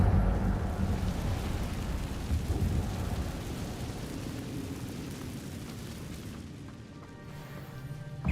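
Incendio, a fire spell in the Hogwarts Legacy video game, roars in a dense, rumbling rush of flame and debris-like crackle that stays loud for several seconds before thinning out, with no talking.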